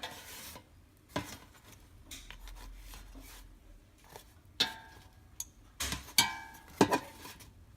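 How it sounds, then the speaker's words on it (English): Egg rolls are turned over in a pan: sparse utensil scrapes and sharp clinks against the pan, with a few louder knocks and quiet gaps between them. "Give them a nice little flip, okay?"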